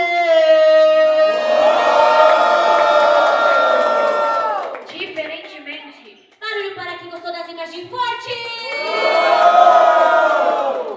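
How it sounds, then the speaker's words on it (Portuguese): A crowd at the grand final of a street rap battle in Brazil roars, cheers and shouts for a performer, loud sustained waves of many voices that dip briefly midway, then swell again. "Barulho, quem gostou das rimas de Sem Flow?"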